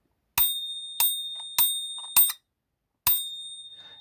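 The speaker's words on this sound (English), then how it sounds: "It's got a little bell, so you drive along, open the doors, pick up the passengers, shut the door and away you go" A little bell on a vintage model bus dinged five times, four quick bright rings in a row, then a pause and one more, each ring close and clear and fading out in an otherwise silent room.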